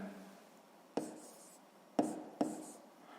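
A pen writes by hand on paper, likely working through a sixth-grade geometry exercise: three short, quiet scratching strokes spaced apart, with faint room hush between them and no talking.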